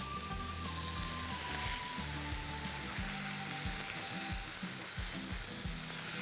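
A veal fillet sears in a hot pan with a steady, dense sizzle that runs unbroken throughout, plus faint low knocks and scraping underneath.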